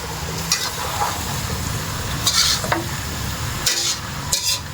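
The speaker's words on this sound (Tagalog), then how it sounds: "Hahaluin na natin ngayon, guys" Catfish stew stirring in a pot, a spoon scraping and clinking now and then over a steady bubbling sizzle, close and fairly loud.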